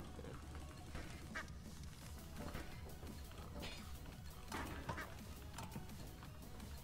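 Duck quacks from the video game Lethal Company sound faintly in repeated short bursts over a low, steady in-game rumble, with no voices over them.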